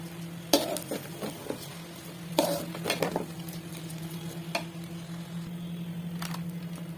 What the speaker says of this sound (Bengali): এখন নাড়াচাড়া করে ভালো করে নাড়াচাড়া করবো